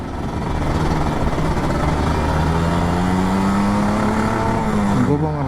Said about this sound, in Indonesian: gue mau ngerasain gimana nikmatnya ngegas pakai Ninja atau pulang kantor